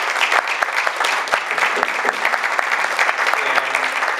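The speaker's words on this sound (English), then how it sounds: "let's give both of these gentlemen a great round of applause" Audience giving a hearty round of applause for two interviewed gentlemen, dense and sustained clapping at even, fairly loud level, with a few sharper individual claps standing out.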